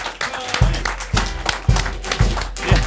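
An audience at a community television station's annual meeting applauds. Scattered claps are punctuated by heavy, regular thumps about every half second.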